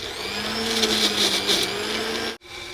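An electric mixer grinder whirs close by while grinding a green masala of ginger, garlic, coriander and chilli with water, a loud, steady motor whine that cuts off abruptly near the end, then briefly resumes.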